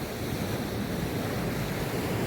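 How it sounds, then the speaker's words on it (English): Sea waves wash against the shore at Penarth during a fishing session, a dense, steady surf roar mixed with wind, with no voices. "Listen to the waves"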